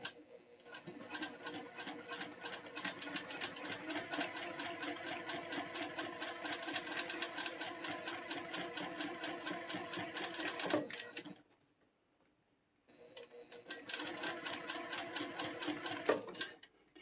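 A home sewing machine stitching fabric, running in a fast, steady mechanical whir for about ten seconds, stopping briefly, then starting again for a few more seconds, close and alone.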